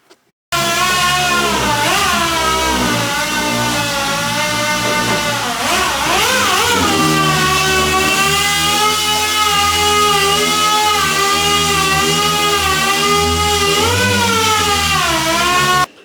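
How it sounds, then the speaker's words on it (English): A loud, steady dual action sander with a 600 interface pad whirs continuously on a Chevelle car body, its pitch wavering slightly as it works over the surface, with no voices. "Right now I'm gonna do the 600 interface pad DA on the car."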